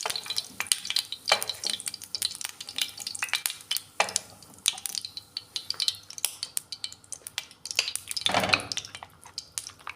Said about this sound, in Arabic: هنا بعد ما قليتهم شويه طلقوا البنه في الزيت